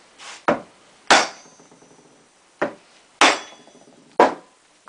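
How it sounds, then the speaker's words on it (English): A hammer strikes sharply six times at uneven intervals, driving clutch springs onto a GP460 clutch. Each blow is close and loud with a short metallic ring, and quiet gaps fall between the hits. "this one good swift hit with the hammer, and that will pop them on there"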